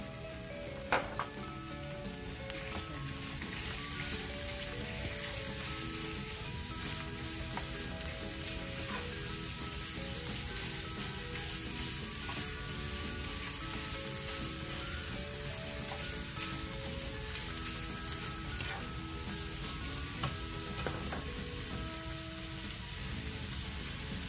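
Beef cubes fry in a pan with a continuous crackling sizzle, close and even, with occasional stirring clinks and no talking.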